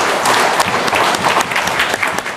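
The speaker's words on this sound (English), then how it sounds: "Give her a round of applause." An audience at the Navajo Nation Council spring session State of the Nation address gives a round of dense, continuous applause, many hands clapping together for a couple of seconds before it begins to thin.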